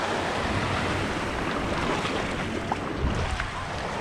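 Surf rolling in at Seven Mile Beach in Negril, Jamaica, a constant, full roar of waves with wind buffeting the microphone, and no voices.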